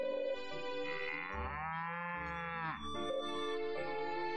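A single long, drawn-out cow moo from a sick, grumpy cow in the farming game Story of Seasons: Pioneers of Olive Town, close and loud over soft game music.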